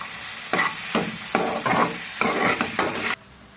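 A spoon scrapes and stirs a sizzling vegetable filling seasoned with cardamom powder in a frying pan, about six distinct strokes over a steady frying hiss before the heat cuts off abruptly near the end.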